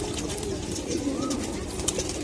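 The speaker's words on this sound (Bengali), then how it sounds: "এটা একটা গোলা কবুতরের লফট। এখানে 100-র উপরে কবুতর আছে।" Pigeons cooing softly in a loft holding more than a hundred free-flying birds, a brief, faint, low murmur over a steady background hum.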